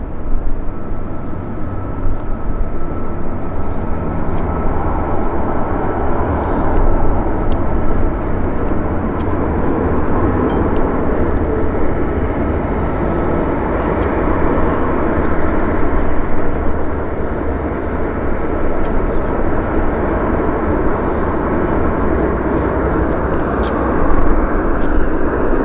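Steady, loud aircraft engine roar at Vancouver International Airport (YVR), a continuous broad rumble from a plane holding for the whole span with no talk.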